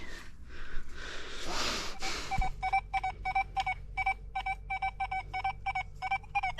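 A metal detector searching on a beach gives a short hiss and then a rapid series of repeated electronic signal tones, each a brief bright beep in a steady rhythm.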